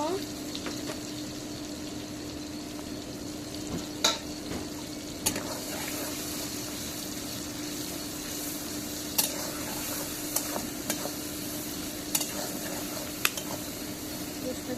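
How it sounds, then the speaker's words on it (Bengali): Onion fries in a pan with a quiet, steady sizzle, broken by a few sharp clicks and scrapes of stirring spread across the stretch, and no one talking. "পেঁয়াজটা ভেজে নিব"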